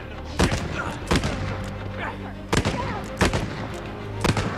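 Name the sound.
gunshots in Uncharted 4 video game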